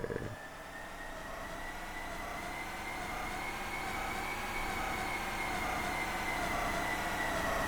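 A train rolling along placed tracks in Minecraft, a steady droning rumble with a high whine that holds continuously and grows slightly louder, with no talk.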